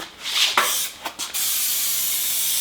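Spray adhesive hisses from a can onto carpet and timber for a truck bed kitchen drawer build, a few short bursts then one long steady close spray.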